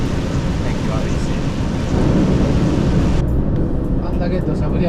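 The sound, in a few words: heavy rain and thunder outside a truck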